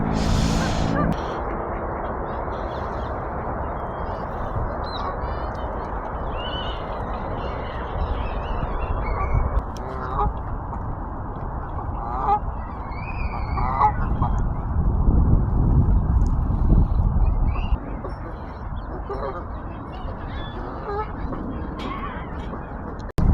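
Geese honk intermittently outdoors in Beckton District Park, London. The calls are moderately distant and mixed with steady park ambience and people talking.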